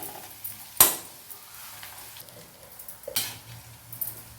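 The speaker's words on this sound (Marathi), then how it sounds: "ह्या कांद्यासोबतच आपल्याला व्यवस्थित लो फ्लेमवर शिजवून घ्यायचं आहे" Onion with a spoonful of ginger-garlic-chili paste cooks in a pan on a low flame for a shevla bhaji, giving a soft, quiet sizzle broken by a sharp utensil clink early on and another light scrape later.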